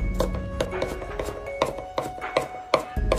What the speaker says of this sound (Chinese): 然后再改刀把它剁成蒜末